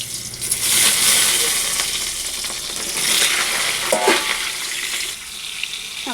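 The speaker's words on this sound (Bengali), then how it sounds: "এখন গরম তেলে এটা লবণ হলুদ দিয়ে ভেজে নেব।" Long eggplant strips fry in hot oil with salt and turmeric, producing a loud, continuous sizzle that swells and eases. Brief clatters and a short tonal squeak cut through near the end.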